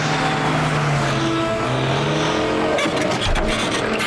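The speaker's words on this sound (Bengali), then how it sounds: "ওই দেখো ওই গাড়িটা ওই দিকে যাচ্ছে।" A cartoon car drives past, its engine sweeping and revving with a brief rough burst near the end, fairly loud and alone.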